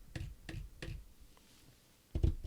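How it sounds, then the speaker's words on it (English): Fingers tapping on a desk near an Audio-Technica ATR2100 microphone: three quick taps, a pause, then a louder final tap, all close and soft with no voices. "Tapping my fingers on the desk."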